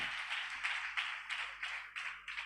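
A church congregation claims together in a steady rhythm, each beat a soft, blended burst of many hands repeating at a regular pace, moderately loud with no talking over it.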